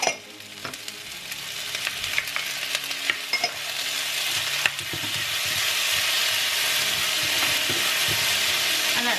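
Seasonings sautéing in a pan for Jamaican-style cabbage and salt fish: a steady broadband sizzle with scattered stirring clicks that thickens into a loud, continuous fry, with no voices.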